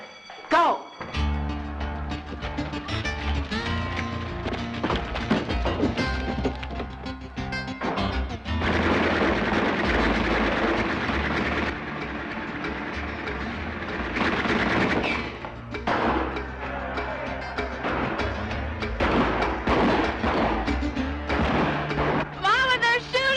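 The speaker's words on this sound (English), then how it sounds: "Mama, they're shooting at us!" Gunfire aimed at the people in a 1987 crime film, bursts of rapid machine-gun shots and single cracks with crashes, loud and dense, mixed with speech and music.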